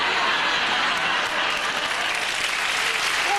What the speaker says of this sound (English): All the applause you keep getting.